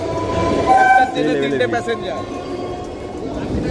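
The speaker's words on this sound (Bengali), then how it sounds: "ডাউনে ট্রেন আসছে বারাইপুর লোকাল" A Baraipur local train rumbles into a Kolkata station with a steady rolling roar and brief squeals, while people talk loudly close by over the noise.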